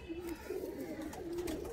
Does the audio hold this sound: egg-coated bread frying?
no